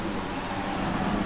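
Heavy rain pours steadily in a MotoGP racing video game, a dense, constant hiss of falling water with a low rumble beneath it, unbroken for the whole moment.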